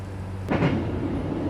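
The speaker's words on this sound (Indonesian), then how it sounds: "Kereta Gajayana Tambahan sudah diberangkatkan kembali dari stasiun Yogyakarta tepat sesuai jadwal." The Gajayana Tambahan passenger train sets off from Yogyakarta station, a low steady rumble with one sharp metallic clank of couplings or wagons taking up slack, moderately near and without voices.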